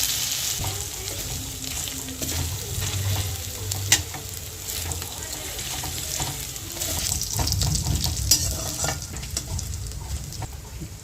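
Dry red chillies, bay leaves, cardamom, cinnamon, asafoetida and ginger paste sizzle in hot oil for Bengali chana dal, with steady frying hiss and occasional stirring clinks throughout, no talking.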